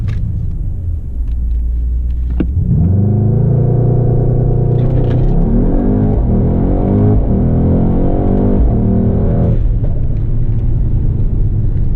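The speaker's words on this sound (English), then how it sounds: "So do a race start." A Mercedes-AMG GT 63 performs a race-start launch: a loud, deep engine idle swells at about two and a half seconds into a sustained, rising roar, with several gear-change steps, holding strong and steady before easing off near the end.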